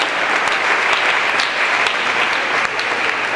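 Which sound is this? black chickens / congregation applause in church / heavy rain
congregation applause in church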